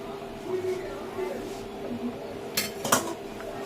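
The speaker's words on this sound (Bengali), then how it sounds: "একটু খুলে এবার একটু নেড়ে দেবো" A lid comes off a cooking pot and a metal spoon scrapes and clinks while stirring chicken biryani, a few sharp clatters under a soft voice talking.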